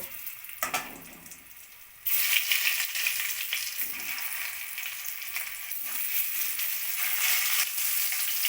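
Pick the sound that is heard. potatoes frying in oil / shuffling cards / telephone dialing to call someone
potatoes frying in oil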